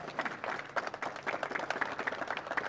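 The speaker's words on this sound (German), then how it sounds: "die Damen haben mal einen Applaus verdient" Audience applause during a speech to business owners and employees in Lüdenscheid, a moderate crowd clapping steadily with distinct individual claps audible throughout.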